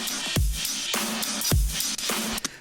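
A drum beat pumps with heavy squashing: kick and snare hits sit in a dense, flattened wash of sustained cymbal noise with little space between them.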